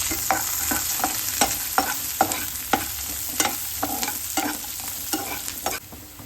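Curry leaves and peanuts frying in a pan of oil for a palak dish, with steady close sizzling under repeated sharp clinks and scrapes of a spoon stirring at a quick, irregular rhythm; nobody speaks.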